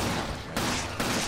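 Rapid video-game gunfire from Resident Evil 5, sustained dense bursts with a brief break between volleys, loud and continuous throughout without speech.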